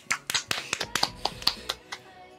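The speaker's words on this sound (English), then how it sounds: "Can we get a round of applause?" Scattered hand claps from a few people at a birthday party, irregular and close, with brief lively chatter mixed in.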